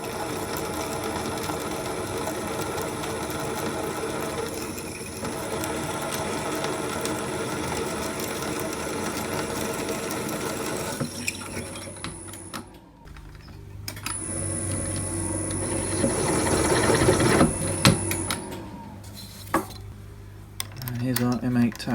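A drill bores a pilot hole before M8 tapping, a steady whirring motor with a high whine that stops briefly partway through, then returns louder with rough grinding as the bit cuts.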